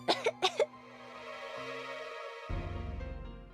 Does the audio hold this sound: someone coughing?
yes